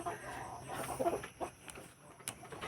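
Free-range chickens and a rooster on a farm make scattered soft clucks and short calls at a moderate distance against quiet outdoor background, with no talking.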